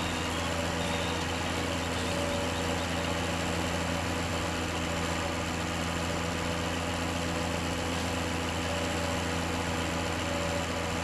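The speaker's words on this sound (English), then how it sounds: "we'll put the plowing tractor back here." A plowing tractor in Farming Simulator 17 idles with a constant, loud engine drone and steady hum throughout, with no talking.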